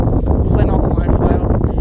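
Wind buffets the microphone outdoors on a fishing trip, making a loud, continuous low rumble with gusty bursts throughout.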